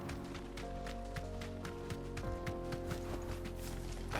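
Horse hooves clip-clop steadily in Final Fantasy XVI, with an even trotting rhythm laid over a continuous game music and ambience bed at moderate volume.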